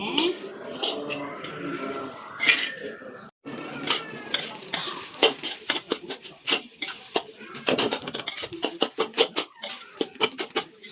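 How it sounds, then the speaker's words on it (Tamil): Rice and spices with salt stir-fried in oil for nasi goreng kampung, a steady run of spatula scrapes and taps against the pan with a light sizzle underneath and some talk. "கொஞ்சமாக உப்பு சேர்த்து நல்லா அந்த எண்ணெயிலே வந்து வதக்குங்க எல்லாத்தையுமே"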